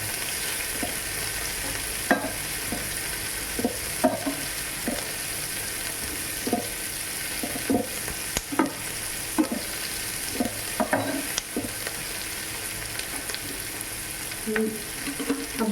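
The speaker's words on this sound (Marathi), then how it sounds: "याला थोडंसं परतवून घेते" Capsicum sautés in a pan for paneer chilli, hissing with a continuous oily sizzle broken by repeated scrapes and taps of a stirring spoon, close and steady with no talking.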